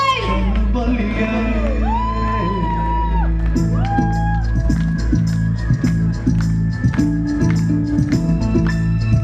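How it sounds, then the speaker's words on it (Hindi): A wedding crowd in Kota whoops, shouts and cheers loudly over steady, pounding music with singing, the voices and claps rising in bursts throughout. "जोरदार तालियां, कम ऑन गाइस"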